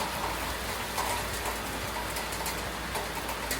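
Rain falls steadily on a rainy day in Mexico, a dense, even hiss of drops with occasional louder spatters, moderately close and continuous, with no voices over it.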